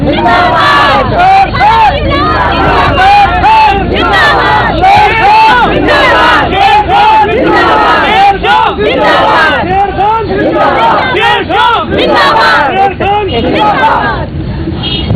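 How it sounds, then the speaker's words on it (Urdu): A large crowd of supporters loudly chants political slogans around a bus during a street confrontation in Pakistan, the dense rhythmic shouting continuous and close with overlapping voices throughout. "اس لیے یہ نعرے لگا رہے ہیں"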